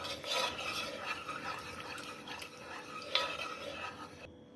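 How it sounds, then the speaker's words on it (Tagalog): A spoon stirs cornstarch in a pot until it dissolves, making a close, continuous scraping and swishing against the pan's sides with a brief clink of metal partway through, no voices. "Haluin lang ng haluin ang cornstarch hanggang matunaw."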